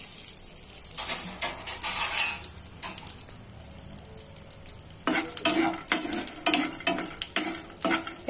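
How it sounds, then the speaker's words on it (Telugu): Peanuts frying in a couple of spoons of oil for a Telugu beetroot fry, with bright sizzling and repeated metallic stirring and scraping against the pan, rising in bursts throughout. "ఓ రెండు స్పూన్లు నూనె వేసుకోండి పల్లీలు వేయించుకుందాం"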